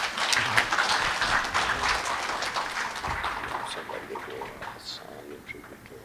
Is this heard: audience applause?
yes